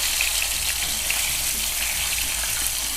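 Fish pieces frying in a pan on their second side make a constant, even hiss of hot oil, close and fairly loud with no talk.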